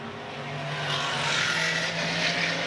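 A red Cobra race car engine roaring out of the Lavant corner at a historic circuit race, a loud, continuous, rising engine blare that builds and holds as the car passes close by, with no voices.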